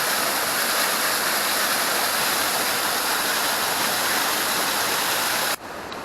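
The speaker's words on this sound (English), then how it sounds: "Oh, we got a waterfall right here, guys." An off-trail waterfall in an Oregon forest gives a steady, loud, full roar of rushing water that holds unbroken for several seconds before dipping slightly near the end, with no voices.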